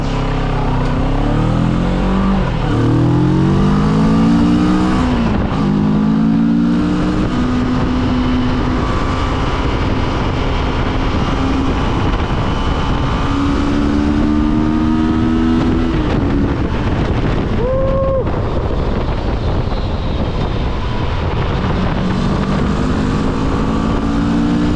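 A new motorcycle rides along a road, its loud engine rising and falling in pitch through several gear changes under heavy wind rush, with no talking.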